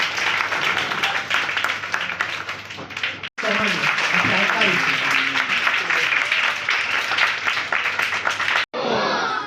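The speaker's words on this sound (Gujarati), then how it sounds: "જોરદાર તાળીઓથી તેઓને આવકારીશું" Loud, sustained applause from an audience welcoming a guest at a ceremony in a hotel hall, a dense wash of clapping that breaks off briefly twice, with a short change in tone near the end.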